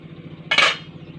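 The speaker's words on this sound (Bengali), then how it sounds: "5-7 মিনিট পরে ঢাকনাটা একটু তুলে নিচ্ছি" A metal lid is lifted off a cooking pot of Basanti pulao with a single short clank over a low steady kitchen hum.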